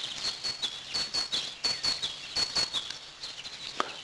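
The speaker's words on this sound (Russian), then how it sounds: "Вон синички слышно, как радостно весну приветствуют." Tits sing in bright, repeated chirping phrases in spring near Chernihiv, Ukraine, over soft outdoor background, with a few short taps near the end.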